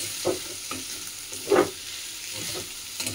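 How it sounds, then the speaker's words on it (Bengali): Potatoes fry in a pan while being stirred, a close, steady sizzle punctuated by a few distinct scraping stir strokes. "এখানে আলু ভাজাটা হয়ে এসছে"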